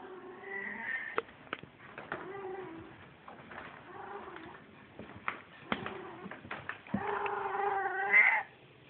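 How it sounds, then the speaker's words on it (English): A cat meows repeatedly indoors, a series of short and drawn-out calls with a longer, louder yowl near the end, heard close with no talking over it. "Are you hungry, pretty kitty? You talking a lot?"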